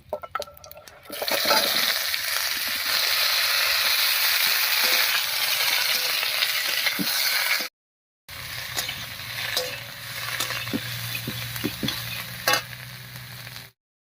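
Green jackfruit pieces stirred in a pan over oil with fried whole spices: a loud, steady close-up sizzle with scraping stir strokes, a short break, then quieter sizzling and clinking spoon-against-pan sounds.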